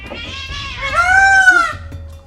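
A cat gives one drawn-out, rising and falling meow, loud and close, with faint background noise before and after.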